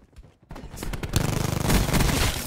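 Black Ops 4 gunfire erupts in a dense, rapid burst of shots. The volleys are loud and close and continue without pause.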